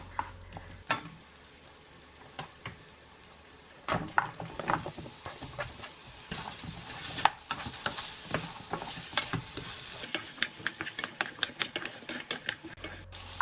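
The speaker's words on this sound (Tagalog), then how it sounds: "In a heat pan, add butter and stir the cut onion and potato for 5 minutes." Onion and potato stirred in butter in a hot pan: scattered scraping and clicking of a utensil against the pan, with a soft sizzle building in the second half, close and moderately quiet.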